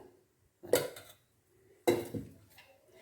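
Curd being poured and shifted into a metal pot while making butter, two distinct clanking knocks of metal vessels about a second apart, close and alone in a quiet room.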